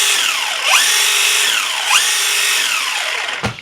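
A brushless RC car motor drives the wheels through all-metal gears, whining loudly as it revs up and down in two rising and falling sweeps before cutting off, with a mechanical clatter at the end.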